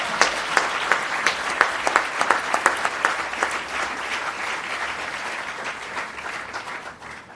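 An audience at a 2019 SACE school merit ceremony claps steadily, a dense, sustained round of applause that fades out toward the end, with no voices over it.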